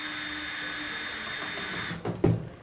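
A power tool whines steadily while backing out 10 millimeter seat bolts in a Mercedes-Benz 560SL, then cuts off, followed by a couple of short clunks close by.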